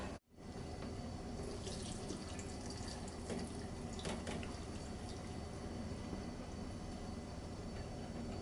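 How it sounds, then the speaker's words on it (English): Rib juices poured through a strainer into a pot, a steady continuous liquid pour with faint clinks, close and unbroken, no talking. "I'm gonna strain the juices of the ribs. I'm gonna strain it on the pot."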